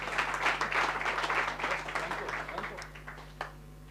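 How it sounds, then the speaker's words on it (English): A modest audience claps at a startup pitch event, scattered hands starting fairly full and thinning toward the end, over a low steady electrical hum, with a voice faintly underneath. "Applause"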